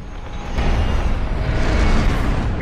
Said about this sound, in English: The hyperdrive generator is about to be destroyed.